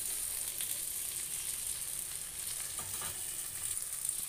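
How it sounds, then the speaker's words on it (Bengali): Hilsa fish and eggplant fry in a small amount of oil, giving a faint, even sizzle that continues steadily, with a few light crackles. "ইলিশ মাছ আর বেগুন ভাজি।"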